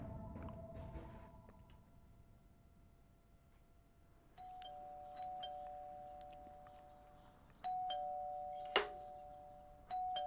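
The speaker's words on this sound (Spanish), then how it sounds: "Después de 6 timbres, Ben por fin abrió la puerta." A doorbell chimes several times at intervals, each ring a sustained electronic tone with a sharp extra ding near the end, heard alone in a quiet room with no talking.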